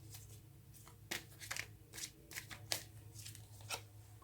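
Tarot cards shuffled and drawn by hand, a steady run of crisp riffling and slapping card strokes, close and fairly quiet over a low background hum.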